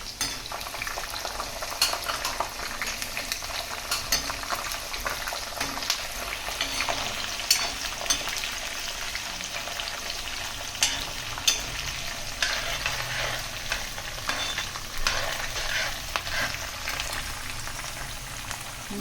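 Peanuts and green chillies frying in hot oil for puliyogare, a steady crackling sizzle with scattered sharp pops and the occasional scrape of stirring, close and continuous with no voices.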